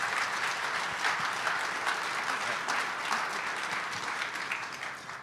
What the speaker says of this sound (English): let's give a round of applause for Mayor Genrich